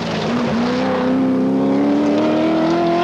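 Triumph TR7 V8 rally car on tarmac at the 1979 Manx Rally, its engine held at a loud, steady high note that climbs slowly, close and continuous with no talk.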